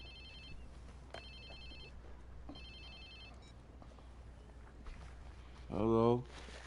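A phone rings in the Watch Dogs 2 video game, sounding as repeated high electronic chirps in short bursts over low game ambience, followed by a brief louder sound near the end.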